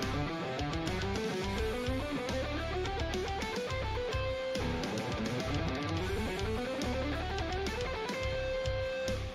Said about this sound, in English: Here's the two reps on every string.